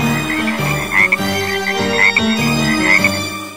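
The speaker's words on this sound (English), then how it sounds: "It started raining frogs once." Loud, rhythmic croaking repeats in pulses about every second over a droning musical backdrop of an animated children's song, like a chorus of frogs.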